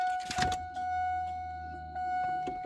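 A Camaro engine running with a steady low drone and a tonal whine, bogging down and sagging in level, with brief clunks near the start.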